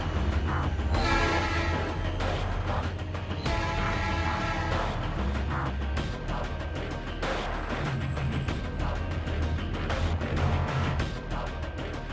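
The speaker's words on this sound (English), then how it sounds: "You saw the train." A train rolls past with a sustained horn blast sounding over the rumbling of railroad cars, loud and steady throughout with no talking.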